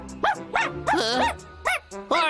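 A cartoon dog barks in a quick series of about six yapping barks and yips, close and clear, with short pauses between them.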